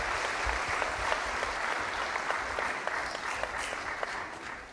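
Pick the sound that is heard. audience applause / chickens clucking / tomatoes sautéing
audience applause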